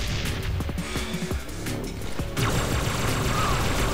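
Rocket blaster fire in a video game comes as a dense, noisy barrage of bursts and booms, with sharp crackling hits over a constant rumble, fairly loud and unbroken throughout, partly under chatter.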